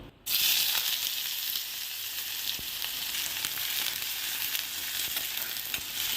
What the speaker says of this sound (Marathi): तेल गरम झालेलं आहे आता त्याच्यामध्ये मी एक कांदा कापून घेतलेला आहे तो तेलामध्ये घालून घेते